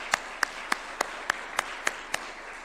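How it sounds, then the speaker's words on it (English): Slow, sparse clapping in a parliamentary chamber, about eight separate claps spaced evenly at a measured pace, faint against a quiet room. "Please, if they can rise up so that we can applaud them."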